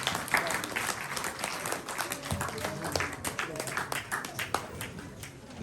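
An audience claps to welcome a performing musical team at a stage show, a sustained ripple of applause with many hands overlapping, fairly close and steady.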